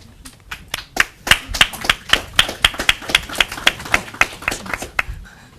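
Clapping at a live EU carbon market debate: a dozen or so sharp, evenly spaced claps ring out close and distinct, more like a few pairs of hands than a full audience.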